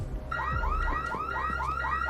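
A security alarm guarding a diamond wails loudly and steadily, repeating rising electronic sweeps about twice a second with no voices over it.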